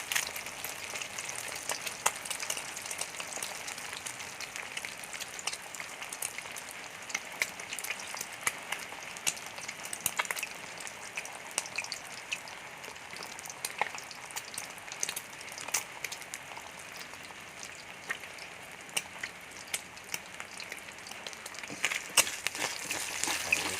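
Vegetables frying in hot oil give a continuous, busy sizzle full of crackles and pops, steady and fairly close throughout with no talking.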